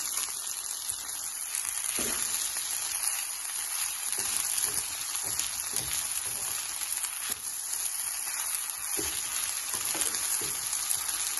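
SPAM fried rice sizzling and frying in a pan, a steady bright crackle throughout with occasional soft scrapes and taps as the rice is stirred and spread.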